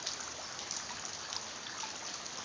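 Steady rain pours around a house while floodwater trickles and streams behind it, a continuous close wash of falling drops and running water with no voices.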